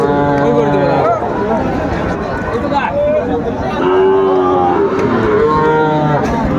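Cattle, including Sahiwal bulls and heifer calves, moo repeatedly at the Aftabganj livestock market in Dinajpur, drawn-out calls rising over a constant crowd chatter and nearby talking.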